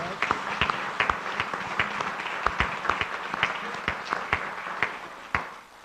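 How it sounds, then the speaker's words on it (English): An audience at a Q&A forum gives a small round of applause, with scattered, fairly sparse claps sounding at an uneven rhythm throughout. "We should give them a small round of applause."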